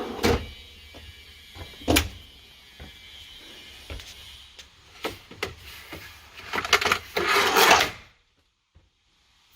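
Drawers and cabinet doors in the galley of a custom 2019 Ram ProMaster camper van slide and thud shut, a series of sharp wooden clicks and knocks followed by a longer sliding rasp, close and fairly loud.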